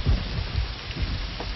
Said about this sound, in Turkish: Fırtına üzerlerine doğru geliyor.